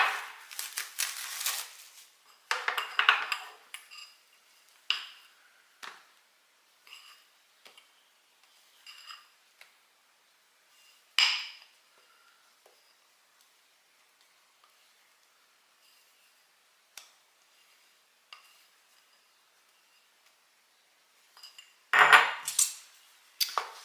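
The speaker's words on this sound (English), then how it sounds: "Got a little offset spatula that I like to use. Just spread it evenly over the top of them." Offset spatula spreading frosting across a pan of cooled bar sugar cookies, heard as faint, sporadic scraping and light taps with long quiet gaps and a few louder strokes near the start and end.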